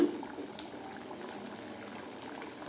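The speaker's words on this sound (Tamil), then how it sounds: "பாருங்க நல்ல மசாலாவெலாம் பச்சை வாசனை போகிற கொதிச்சிருச்சுங்க" Thick spiced anchovy dried-fish curry bubbles and simmers steadily in a pan, a constant soft gurgling hiss close by, with no voices.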